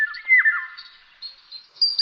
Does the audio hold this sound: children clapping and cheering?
no